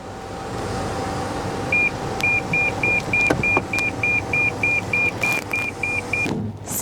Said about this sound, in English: I feel like opening the sunroof